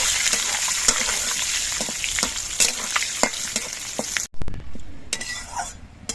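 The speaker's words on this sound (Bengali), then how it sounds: "দিচ্ছি দুটো শুকনো লঙ্কা আর দিচ্ছি পাঁচফোড়ন এবার এগুলো বেশ ভালো করে ভেজে নিতে হবে" Two dry red chillies and panch phoron fry in hot oil, giving a bright, crackling sizzle with scattered pops and stirring clicks that cuts out abruptly, then returns quieter.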